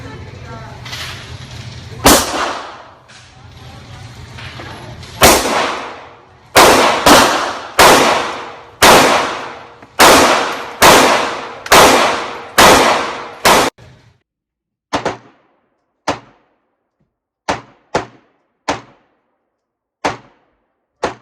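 Gunshots from a Springfield XD Mod 2 9mm pistol at a shooting range, a long run of loud, sharp cracks in quick succession, followed by a sparser set of single shots spaced about a second apart.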